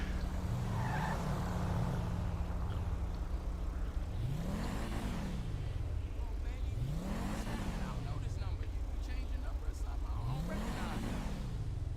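Car engine revving repeatedly in a video game, with three rising-and-falling sweeps of acceleration under steady engine drone and faint background talk.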